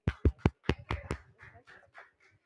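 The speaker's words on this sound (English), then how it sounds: "Can we please get a big round of applause for Akalkaji?" A few people clap in a small audience for a speaker at a Chinmaya Ramdoot Samskriti event, several sharp near claps at first, then scattered softer ones fading out.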